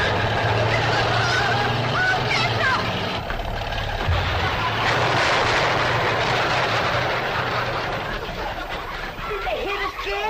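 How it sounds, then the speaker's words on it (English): An old truck honks loudly as it barrels toward a cabin, its blaring horn and rumbling engine mixed with excited voices talking over the commotion. "Cousin Pearl and that overgrown son of hers is headed right for the cabin in that old truck."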